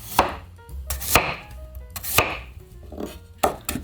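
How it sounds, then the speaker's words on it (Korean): A knife julienning radish on a cutting board, rapid sharp crisp strikes in an uneven rhythm, close and clear with no voices. "얄팍얄팍하게 편하게 썰어서 채를 칠 거예요"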